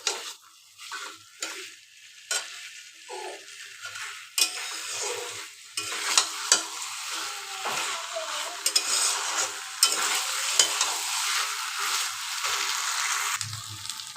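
Boiled new potatoes sauté in a pan for aloo dum with constant sizzling, while a spoon scrapes and stirs in irregular bursts that grow busier and louder toward the end.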